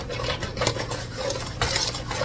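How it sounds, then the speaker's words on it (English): A whisk beats a pie crust mixture in a bowl, giving quick, irregular scraping and tapping strokes at moderate, close volume with no talking. "And I'm just going to whisk that up."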